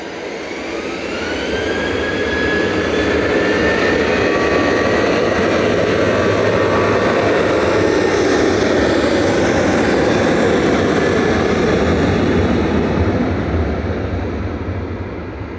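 A Ryanair Boeing 737-800 bound for Oslo makes its full-length takeoff run on runway 23 left at Manchester Airport, a loud, sustained jet roar that swells over the first seconds and holds steady with a rising whine, no talk.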